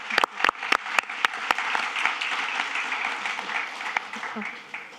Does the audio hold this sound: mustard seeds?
no